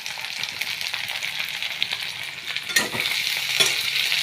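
Sliced onions frying in a pan for a chicken gravy, a steady close sizzle with occasional louder scraping stirs, no talking.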